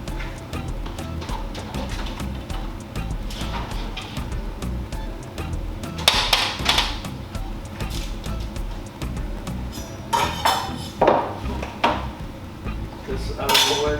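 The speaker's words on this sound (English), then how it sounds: "We're gonna take our fish out of the oven." Dishes and pans clatter as baked walnut-crusted salmon comes out of the oven, with a steady kitchen background broken by several louder metallic clinks and knocks near the end.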